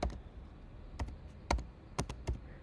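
A name is typed on a computer keyboard as a handful of crisp, close key taps in an uneven rhythm, quiet and alone without voices.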